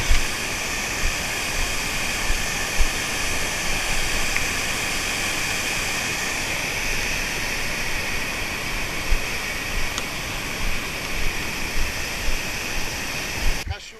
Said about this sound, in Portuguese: Cachoeira das Galhetas.